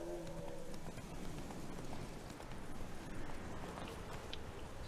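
Horse hooves in The Witcher 3: Wild Hunt clip-clop steadily and rapidly at a trot, close and continuous, with a low rumble underneath.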